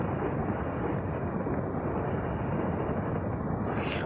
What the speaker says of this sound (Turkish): Artık uzay şimşek yaptırabiliyorum bir mod sayesinde.